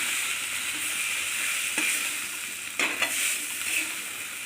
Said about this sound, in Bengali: এবার ঝরঝরে ভাতগুলো দিয়ে দিলাম, দিয়ে নাড়তে থাকছি।